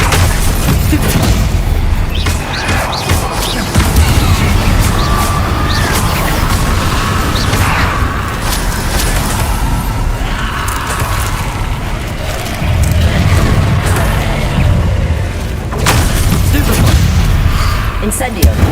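Stupefy spell combat in the video game Hogwarts Legacy: repeated booming spell blasts and crashes keep landing over a continuous loud game soundscape, with voices calling out spells throughout.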